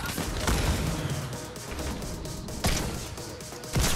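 Desert Eagle fired in Fortnite at the end of a match: a few sharp, loud gunshot cracks stand out against busy game noise and explosions, with no talk.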